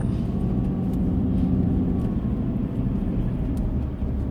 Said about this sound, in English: It's a big old truck.